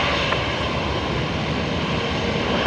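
Jetstar jet airliner on arrival at Brisbane Airport, a continuous loud broadband engine roar that stays steady for a few seconds, no voices.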